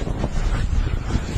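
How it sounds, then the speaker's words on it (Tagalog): Strong typhoon wind in Batanes, a loud continuous roar with heavy low rumbling gusts buffeting the microphone throughout, no voices heard. "malakas na hangin at ulan na nalasa sa Batanes"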